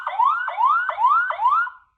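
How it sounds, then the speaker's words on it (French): The 90 dB alarm siren of an LSC solar security camera from Action sounds as four rapid rising electronic whoops in a steady repeating pattern, loud and alone, stopping abruptly. "Vous aurez la possibilité de déclencher l'alarme à distance de 90 décibels"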